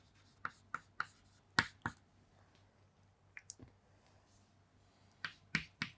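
Chalk or marker tapping and scratching on a board during a chemistry lesson, a handful of sharp, quiet strokes and clicks in irregular bursts with silence between.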